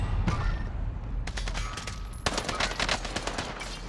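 Rapid gunfire bursts crackle in Call of Duty: Modern Warfare, loud and close, with dense overlapping volleys resembling automatic weapons and a sharp burst near the end.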